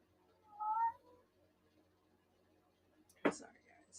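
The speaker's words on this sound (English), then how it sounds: "My cat's in heat. So the boys really want to be near her" Male cats call out faintly near a door, wanting a female cat in heat. A soft drawn-out meow comes first, then a sharper, louder yowl a few seconds later.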